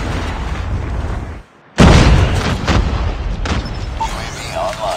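A Predator missile explodes in Call of Duty Mobile: a brief hush, then a sudden loud boom that rolls into rumbling debris and scattered game noise.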